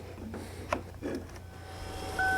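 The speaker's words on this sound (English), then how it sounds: "The chime inside the vehicle is actually working." A warning chime sounds inside a truck being readied for a jump start, heard as a steady high tone that enters near the end amid faint mechanical clicks and low hum.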